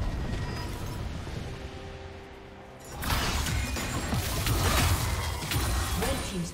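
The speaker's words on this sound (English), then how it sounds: "Red team's turret has been destroyed." A turret is destroyed in League of Legends: after quieter game ambience with tonal cues, a loud crashing, rumbling collapse bursts in midway and sustains with debris-like clatter and battle noise.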